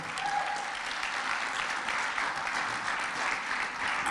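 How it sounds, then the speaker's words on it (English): A seated audience gives sustained applause for a group of conference presenters, a dense, steady wash of many hands clapping at moderate volume throughout with no pauses. "Let's give all the presenters a tremendous round of applause for the work they did"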